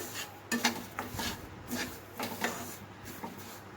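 Garden cress (aliv) seeds dry-roasting in a pan over medium heat give off soft, irregular crackles and faint pops, with scattered small clicks of seeds and pan scraping, close and fairly quiet.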